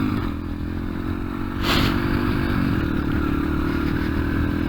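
Yamaha TTR125 motorcycle engine running just off idle with a slightly weak, sputtery tone. The steady close engine rumble carries a brief clattering burst partway through, and no one speaks.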